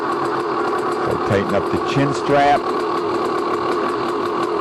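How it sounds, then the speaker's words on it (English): Enduro dirt bike engine idling steadily at a 1997 or 2000 enduro event, a constant mid-pitched drone throughout, with a person talking close over it. "Bike fired up. As I let it idle."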